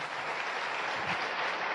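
An audience applauds at a motivational seminar as a speaker introduces an honoured reward recipient; dense, steady clapping fills the whole short stretch with no voices over it.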